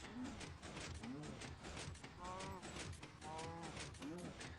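A cow in the Minecraft video game moos repeatedly, several drawn-out lowing calls in a row, loud and close, with no talk over them.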